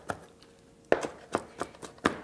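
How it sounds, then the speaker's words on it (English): Fresh garden oregano chopped with a knife on a board, a handful of crisp, close knocks in an uneven rhythm after a short quiet start, with no talk. "We're chopping up some fresh oregano that I just picked out of my garden"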